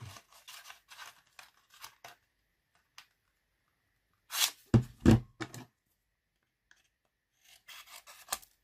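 Scissors cutting a paper birthday greeting card: short snipping and rasping strokes, close and quiet, in small clusters with pauses between and a louder run of cuts midway, no talking.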